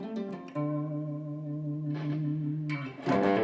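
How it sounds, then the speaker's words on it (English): Electric guitar played through a TC Electronic Mojo Mojo distortion pedal into an amp: a few picked notes, then a sustained distorted chord ringing for about two seconds, followed by a brighter, louder strum at the end. "but it's a pretty good distortion pedal."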